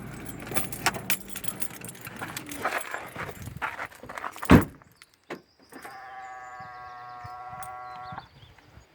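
A 2013 Peugeot 3008 car key jangles on its ring in a burst of close metallic clinks, followed by a brief thud, then a sustained bleating tone nearby.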